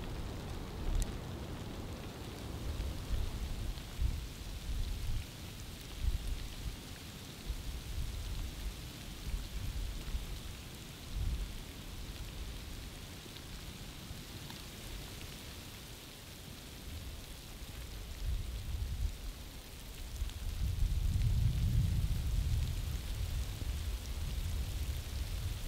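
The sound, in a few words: sleet and freezing rain storm at night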